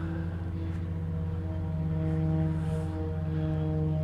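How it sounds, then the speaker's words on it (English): Propeller hum of a King Air medevac flight arriving at Honolulu, a steady droning tone with strong low harmonics that holds at an even level throughout, no voices. "This is that King Air coming in."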